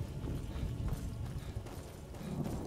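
Horse hooves clip-clop in the video game Skyrim, a soft, steady patter of steps close by, heard on their own without talk.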